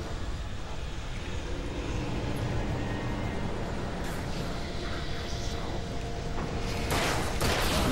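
A helicopter in the video game Alan Wake drones loudly and steadily throughout, with broadband rotor and engine noise, a few scattered impacts and bursts layered on top near the end.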